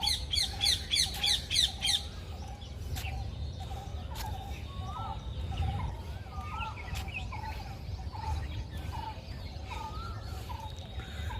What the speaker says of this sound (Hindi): पंछियों के संगीत सुनने में बहुत आनंद आता है।